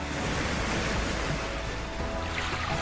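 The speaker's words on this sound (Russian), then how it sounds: "я сейчас себе на телефоне найду шум волн и представлю," Ocean waves played from a phone, a continuous close whooshing surf with gentle rolling swells and a slightly wind-like hiss, steady throughout.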